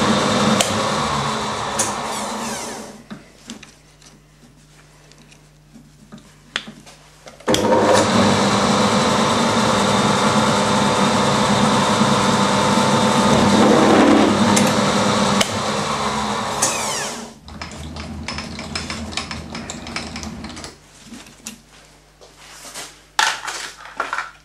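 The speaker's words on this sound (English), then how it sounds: "Got a centre drill in there." A centre drill bores into a steel ball held on a machine, giving a loud, steady grinding and crushing roar that swells midway and then drops back to a lower motor hum with intermittent scraping.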